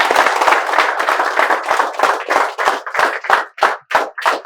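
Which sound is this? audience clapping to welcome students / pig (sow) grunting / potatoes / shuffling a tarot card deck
audience clapping to welcome students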